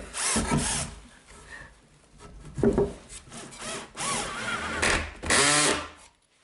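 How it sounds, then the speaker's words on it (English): A power drill drives a few screws into a wooden sandpaper dispenser shelf, giving short bursts of close, loud whirring with pauses and handling noise between them. "it's just a question of a few screws and the thing is finished"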